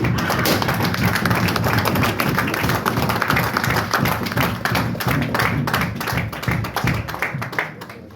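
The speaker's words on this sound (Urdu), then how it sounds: "بھرپور تالیوں میں استقبال کیجئے" Sustained, loud crowd applause and clapping welcoming a speaker onto the stage at a party founding-day gathering, dense and continuous throughout, tapering slightly at the end.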